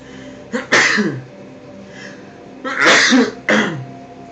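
A person sneezes twice at close range during a livestream, each sharp burst followed by a short breathy tail, separated by quiet room tone with no talk.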